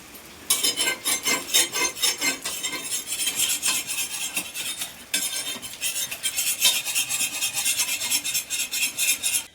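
A house is swept and scrubbed during cleaning. Close, rhythmic, scratchy strokes repeat steadily, brushing back and forth, with a brief pause near the middle.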